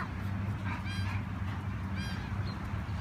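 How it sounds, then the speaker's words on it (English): Geese honking repeatedly near Corpus Christi, short nasal calls scattered over a steady low outdoor rumble, moderately near. "There's birds straight ahead, Sissy."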